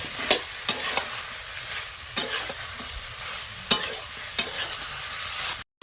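Spice paste and vegetables frying and being stirred in oil for a potato, cauliflower and fish curry, a soft steady sizzle broken by several sharp scraping strokes of a spoon against the pan.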